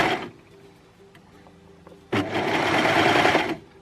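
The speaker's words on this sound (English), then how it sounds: "stretch out the neckband as I sew" A sewing machine stitches a stretched T-shirt neckband for a Frankie baseball tee, starting abruptly after quiet handling and running in a steady, loud burst for about a second and a half.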